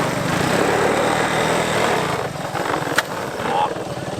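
An old, long-abandoned three-wheeler engine revs hard in the snow, a loud buzzing roar up close that dips briefly and then surges again.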